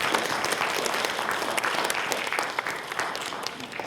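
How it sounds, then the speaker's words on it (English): Dense, steady applause from a school audience at an eighth-grade declamation event, many hands clapping together close by for several seconds and fading slightly near the end, with no voices over it. "You may applaud."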